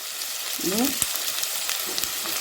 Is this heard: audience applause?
no